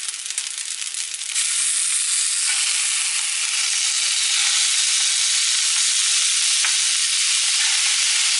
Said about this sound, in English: You're going to dump it into the rice because you want to mix it in there.